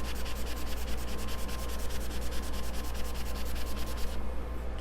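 Painted furniture being distressed by hand with an abrasive, a steady rhythmic rubbing and scraping in fast back-and-forth strokes, close and continuous, briefly quieter near the end.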